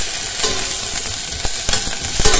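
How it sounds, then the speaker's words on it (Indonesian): Carrots for Japanese curry fry in a pan with a constant loud sizzle, broken by scattered clicks and scrapes of stirring. "Kita goreng sampai dia setengah matang ataupun layu ya"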